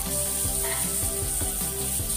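Ginger hits hot olive oil and sizzles loudly and steadily at close range, a dense crackling hiss with faint stirring knocks underneath, as the base of a sweet and sour sauce.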